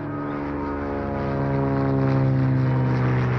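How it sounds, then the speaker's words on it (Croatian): Propeller aircraft engines drone steadily with a low harmonic hum that swells slightly louder as the planes pass overhead, with no voices. "Je peux peut-être entendre le bruit des avions"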